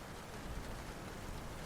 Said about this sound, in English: Do you hear that? The rain is relentless tonight.